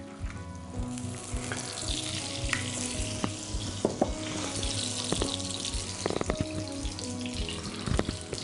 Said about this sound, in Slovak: Medzi tým si môžeme dať opekať drob, zase na bravčovej masti.